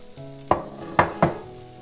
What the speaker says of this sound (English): Okay, so let's stir this up